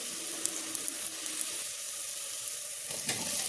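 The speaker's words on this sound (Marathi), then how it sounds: "बटाटे त्याला चांगले परतून घ्या." Potatoes sautéing in a pan with onion, turmeric and chili, a steady close sizzle with faint scrapes and light clinks of stirring, no voices.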